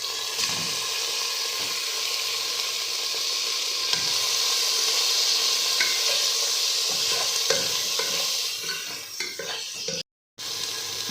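Boneless chicken hits hot oil in a pan and fries with a loud, steady sizzle, spatula stirring and clinks mixed in, broken by a brief dropout near the end, no talking.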